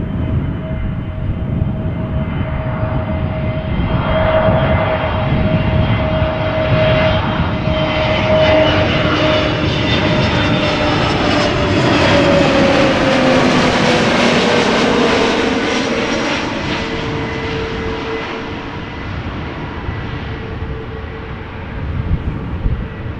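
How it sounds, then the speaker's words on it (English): An Air Malta Airbus A320neo arriving from Malta lands at Amsterdam Schiphol. The loud engine roar and whine swell as it passes nearby, then fade slowly as it rolls out, with no voices. "the Air Malta A320neo arriving from Malta"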